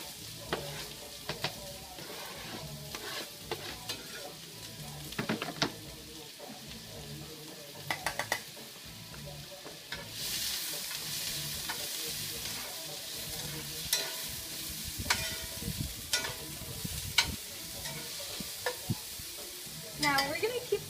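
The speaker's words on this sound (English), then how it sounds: "Now we're going to keep frying this until your carrots start getting soft and your onion gets translucent." Carrots and onion stir-frying in a pan for vegan pineapple fried rice, a steady soft sizzle with irregular scraping stirs and light utensil clicks throughout, no talking.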